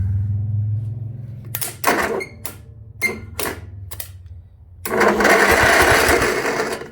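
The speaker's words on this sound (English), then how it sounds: "if the starter's good, then it should start cranking." A Cub Cadet lawn tractor starter cranks in several short bursts of mechanical whirring after a low idle hum, then runs in a longer, louder grinding spell.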